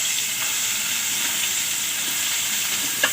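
Garlic paste sizzling hard in hot oil, a loud continuous bright frying hiss, close and steady with no voices.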